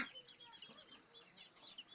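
Free-range chickens on a home duck and chicken farm cluck in quick, scattered calls close by, with a louder squawk near the start and softer chatter after it.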